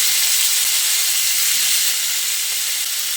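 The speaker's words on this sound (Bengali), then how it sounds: "এবার আমি কেটে রাখা ফুলকপিগুলো তেলের মধ্যে দিয়ে দিচ্ছি" Cut cauliflower pieces dropped into hot oil in a pan after frying fish, giving a loud, dense, steady hiss and sizzle that holds close and unbroken throughout.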